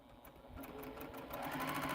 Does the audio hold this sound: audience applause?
no